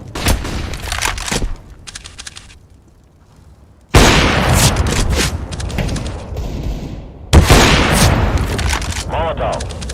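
Grenade and incendiary explosions from Counter-Strike: Global Offensive, loud booming blasts that open the clip, hit again near four seconds and near seven, each followed by crackling, fizzing fire and debris noise.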